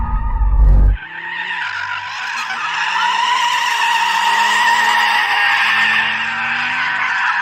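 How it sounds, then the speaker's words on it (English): Car tyres skid and squeal as the wheel is turned and the throttle planted to warm the tyres on a drag strip, a short low engine burst giving way to a loud, sustained high-pitched screech lasting several seconds. "Let's warm up the tyres. So you just turn the wheel and plant your right foot."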